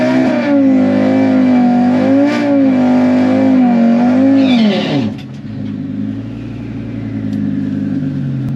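An Audi RS3 on thick drag slicks launches down a drag strip, its engine revving hard and climbing through a loud, sustained rising tone before an abrupt drop as it shifts, then settling into a lower rumble.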